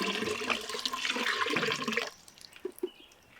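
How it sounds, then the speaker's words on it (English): Cold water poured steadily into a vessel for elderflower wine, a loud continuous splashing rush for about two seconds, then stopping, leaving a few faint drips and clinks. "We're going to add the rest of our other 8 cups of cold water"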